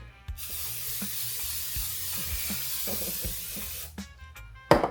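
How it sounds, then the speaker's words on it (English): A sustained hiss of cooking spray onto a pan for baking chicken runs for several seconds, followed by a few light clatters of the pan. "I just used some cooking spray just so that the chicken doesn't stick to the pan"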